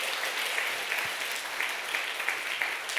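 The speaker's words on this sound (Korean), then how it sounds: "박수 한번 쳐주시기 바랍니다" A church congregation bursts into continuous applause, a steady bright patter of many hands clapping together, moderately loud and even from start to finish.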